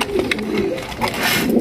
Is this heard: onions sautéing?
no